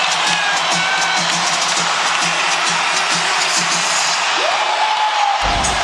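A basketball arena crowd roars and cheers loudly and continuously after an Aaron Gordon play in a Pacers at Magic NBA game, a dense sustained wall of voices with a commentator faintly audible underneath.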